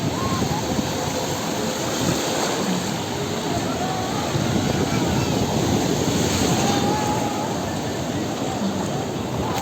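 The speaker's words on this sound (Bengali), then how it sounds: "এই ঢেউটা বাও, দারুণ লাগছে" Continuous wash of surf with waves breaking and churning on the beach at Digha, a broad hiss mixed with wind and faint voices in the distance.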